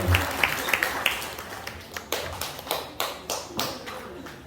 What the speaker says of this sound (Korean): 우리 원장님께 큰 박수 한번 쳐주십시오